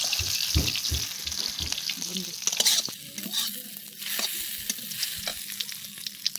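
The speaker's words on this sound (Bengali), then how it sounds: "সর্ষের তেলে কালো জিরে ফোড়ন দিলাম" Nigella seeds sizzling in hot mustard oil in a pan, a steady close crackling hiss with stirring scrapes and a few low knocks near the start.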